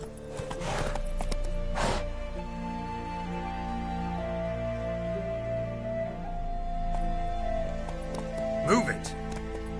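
Roach the horse gallops in a video game, steady clip-clop hoofbeats running throughout under a continuous game music bed, with occasional whinnies and a rider's voice calling out.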